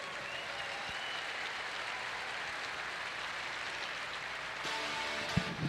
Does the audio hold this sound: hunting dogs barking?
no